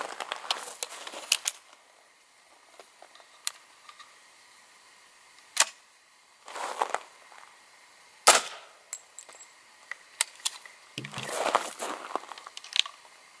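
A squib load fires and cycles the firearm's action, heard as a series of sharp cracks and clacks scattered among quieter rustling and handling noises, fairly close, with no talk.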